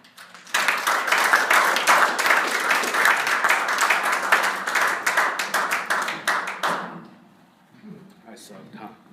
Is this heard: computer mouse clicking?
no